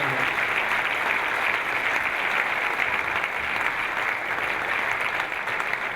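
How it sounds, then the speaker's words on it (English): A room full of people gives a long, steady round of applause at a reunion evening event, a thick uniform patter of clapping with no gaps. "can we just have a huge round of applause to players and event management for pulling off another fantastic event"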